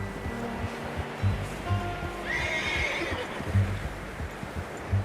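A horse whinnies loudly in Red Dead Redemption 2 over steady background wash, with a few dull hoof thuds scattered throughout.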